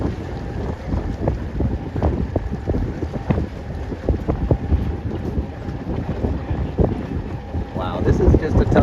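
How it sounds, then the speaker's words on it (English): Strong wind buffets the microphone aboard a small Sabot sailing dinghy during a youth regatta, producing loud, gusty rumbling bursts that rise and fall continuously, with faint water and boat sounds beneath. "But at least it's windy over here."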